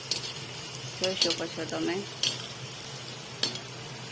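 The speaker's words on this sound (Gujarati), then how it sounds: "આ રીતે આપણે સમોસા તળી લેવાના છે." Samosas fry in hot oil with a soft, steady sizzle close by, and a spoon or utensil clinks in the pan now and then while a person talks over it.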